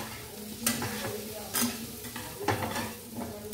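Potatoes fry with a pinch of turmeric in a pan, a steady sizzle under repeated scraping strokes of a spoon stirring them, loud and close with no talk.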